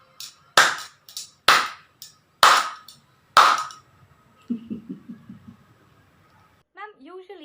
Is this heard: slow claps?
yes